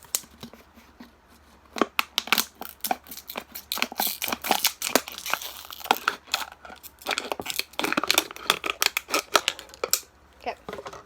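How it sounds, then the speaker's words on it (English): Scissors snip through a plastic water bottle to cut off its top, a quick run of sharp close clicks and crunchy snips with brief pauses, alone without talk. "And some scissors or anything. You're just going to cut the top off."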